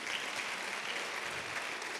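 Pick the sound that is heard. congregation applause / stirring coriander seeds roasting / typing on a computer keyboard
congregation applause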